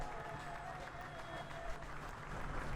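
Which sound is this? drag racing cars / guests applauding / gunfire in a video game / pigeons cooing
guests applauding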